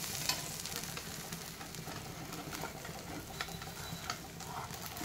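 Wheat flour chilla frying in a pan, with a soft continuous sizzle and a few light scraping and stirring touches, faint and close throughout.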